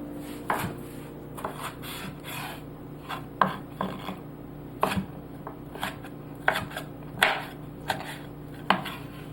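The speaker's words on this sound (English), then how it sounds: "I'm going to cut off a little tomato" A kitchen knife slices a tomato for a quick salad on a cutting board, a dozen or so crisp, separate chops landing in an uneven rhythm, close and clear over a quiet room hum.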